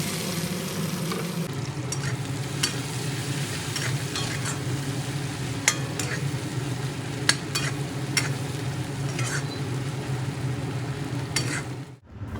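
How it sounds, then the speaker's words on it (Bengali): Chopped onions fry in hot oil in a pan for an egg curry, a steady close sizzle running throughout while a utensil stirs them with occasional scraping clicks, ending abruptly. "এর মধ্যে পেঁয়াজ কুচি দিয়ে ভালোভাবে নেড়ে চেড়ে পেঁয়াজ কুচি খুব সুন্দর সোনালি কালার করে ভেজে নেব"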